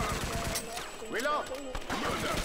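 Rapid bursts of power-shot gunfire from the NOT A HERO video game crack out in quick succession, mixed with game effects and a voice talking over them.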